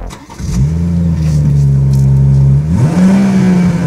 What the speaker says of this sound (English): Now, this is the BMW twin power turbo six-cylinder with 340 horsepower.